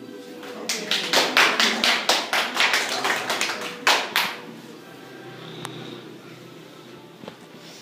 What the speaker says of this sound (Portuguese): Já podemos aplaudir.